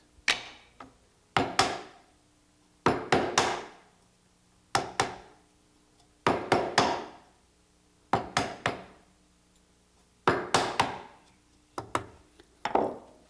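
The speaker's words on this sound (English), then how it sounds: "Chisel halfway through from each side. So now I flip it over and do the same thing from the other side." A chisel is driven into a wooden dovetail to clear waste from the second side, giving repeated sharp mallet knocks in clusters of two or three, separated by short quiet pauses, close and crisp.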